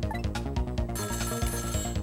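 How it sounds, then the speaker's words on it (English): A telephone rings in the Ghost Trick video game, a loud, repeating electronic ring layered over the game's music, with no speech. "Somebody please answer the phone."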